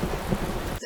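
Steady rain with a low thunder rumble from a music video soundtrack, filling the short stretch at a constant level before it cuts off abruptly at the end.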